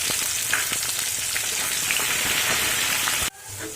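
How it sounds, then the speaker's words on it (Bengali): Sliced onions sizzle and crackle steadily in hot oil with whole garam masala, dry chillies, cumin and bay leaves, a dense close-up frying hiss that cuts off abruptly near the end. "দেখুন পেঁয়াজটা লাল লাল করে ভাজা হয়ে গেছে।"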